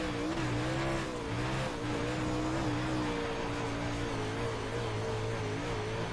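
A UMP Modified dirt race car engine in the iRacing game drones steadily around the Oswego dirt track, a sustained humming roar with slight pitch shifts, continuous and uninterrupted throughout.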